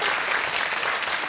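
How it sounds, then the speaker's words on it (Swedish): Studio audience applause on a Swedish BingoLotto TV show, a dense, steady wash of many hands clapping at close range with no voices over it. "det är faktiskt värt en applåd"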